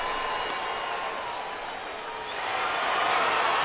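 Home crowd at a minor-league double-A baseball game cheering and applauding in a steady, broad wash of noise that swells slightly toward the end.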